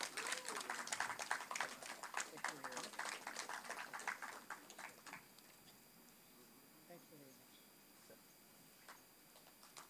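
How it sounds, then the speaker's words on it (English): Applause from an audience at a panel event on women in cinema, quiet and distant, with brisk clapping for the first few seconds that fades to near silence. "Can I have a round of applause for him"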